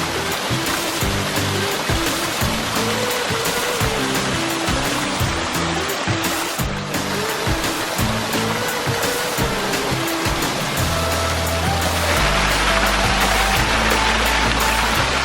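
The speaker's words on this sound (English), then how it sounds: "you get to see this really cool waterfall" Water pours continuously down a 360-degree outdoor waterfall feature at an entryway, a loud, dense rushing wash heard up close, with steady low tones from something nearby underneath.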